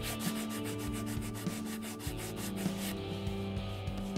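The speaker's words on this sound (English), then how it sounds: "I used a small sanding block and 320 grit sandpaper to flush up the holes." Wood of a Telecaster-style guitar body being flush-sanded around drilled holes with 320 grit sandpaper on a small sanding block, a steady, close rubbing rasp of back-and-forth strokes repeating roughly every half second.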